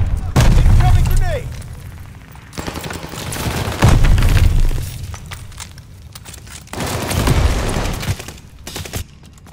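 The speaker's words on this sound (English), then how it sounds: "Incoming grenade!" Explosions and gunfire in a Call of Duty: Vanguard firefight over a hardpoint, with a grenade blast among several loud, booming bursts spread across the scene; voices speak over the battle.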